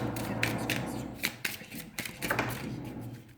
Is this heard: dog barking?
no